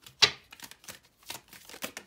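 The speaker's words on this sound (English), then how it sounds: "Let me get a few shuffles here." A deck of cards is shuffled in a few quick, crisp bursts of flicking and tapping, quiet and close.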